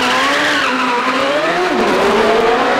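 A red Gould GR55B hillclimb racing car launches hard at the Shelsley Walsh hillclimb, its engine screaming upward in pitch with squealing tyres, loud and close throughout.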